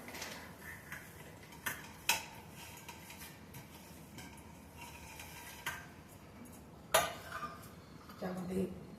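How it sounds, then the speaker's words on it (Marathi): Cooled ingredients are tipped into a mixer grinder jar at close range, with scattered clinks, taps and a few sharp knocks of utensils against the pot amid faint kitchen rustling. "हे जे आपण थंड करून घेतलंय ते सगळं मिक्सीच्या पॉटमध्ये टाकून घेऊ"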